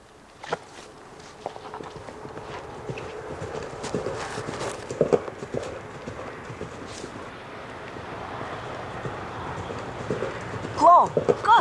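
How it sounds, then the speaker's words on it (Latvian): A herd of horses comes closer, hooves clopping irregularly on the ground, faint at first and growing louder, with wind noise and a voice speaking over it. "tūlīt te būs zirgu bars"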